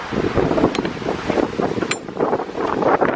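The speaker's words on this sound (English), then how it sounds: "It got super windy." Strong wind roars and buffets the microphone in continuous gusts, loud and close throughout, with no voices.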